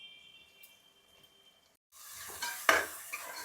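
Broad beans drop into hot oil, bursting into a loud sizzle after a near-silent opening, with clattering stir strokes close up over the spitting oil.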